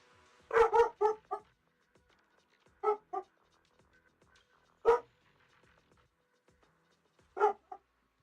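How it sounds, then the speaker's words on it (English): An upset pet dog gives short clusters of barks and whimpers, close and fairly loud, separated by quiet gaps, with about four bursts in total. "Also, my dog goes upset."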